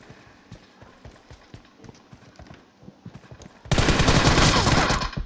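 M4 rifle gunfire in a video game: a loud, sustained automatic burst fills the final second and a half, following quieter footsteps and movement clatter.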